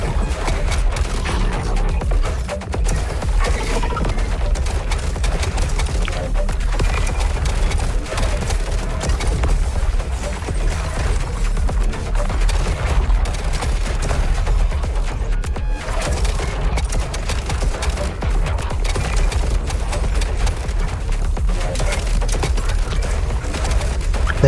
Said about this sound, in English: The nades are so overpowered, man.